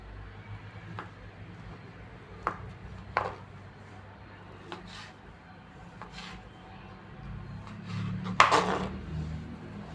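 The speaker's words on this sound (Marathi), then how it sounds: "ह्या इडली जे आपण ना छोटे छोटे तुकडे करून घेऊ" Leftover idli is chopped into small pieces, giving a handful of sparse knife taps on a board against a quiet kitchen background, with a louder clatter near the end.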